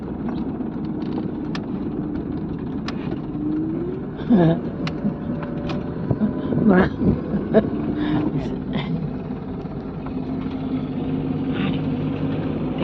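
Car driving along a rural road, a steady low engine and road rumble throughout with a few brief knocks and clatters midway, while people talk.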